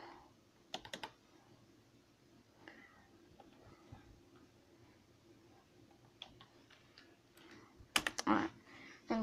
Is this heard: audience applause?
no